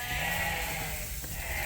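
Sheep bleating inside a barn, a dense overlapping chorus from a flock close by, steady and continuous with no voices on top.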